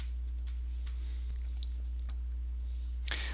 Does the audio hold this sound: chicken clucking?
no